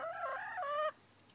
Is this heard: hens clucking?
yes